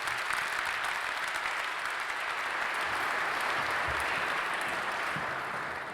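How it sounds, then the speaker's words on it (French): Sustained audience applause filling a large university amphitheatre, dense and steady clapping from a big crowd throughout, fading slightly at the end. "Nous pouvons l'applaudir."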